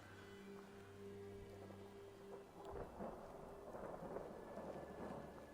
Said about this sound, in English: a lovely ambiance of the thunder cracking in the distance there